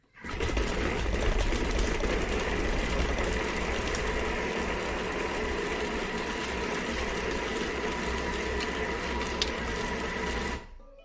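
Thermomix blade mincing raw chicken at speed 5, a steady loud whirring motor hum with chopping rumble that runs for about ten seconds, then cuts off abruptly.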